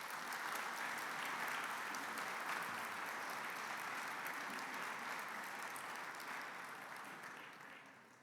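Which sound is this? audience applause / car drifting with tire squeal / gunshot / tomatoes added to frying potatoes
audience applause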